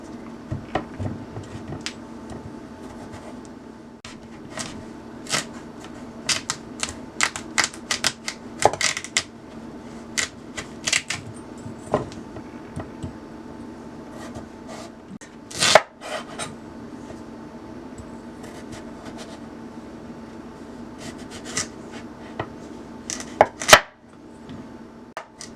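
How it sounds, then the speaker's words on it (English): Knife chopping sweet potatoes into strips on a cutting board, a steady run of sharp, close taps with brief pauses and a few louder thuds, no talking. "And now I'm going to take these and cut them in strips."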